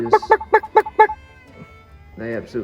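Domesticated turkeys on a farm planting field gobble in five quick, rhythmic bursts close by, followed by a pause and then a short voice at the end.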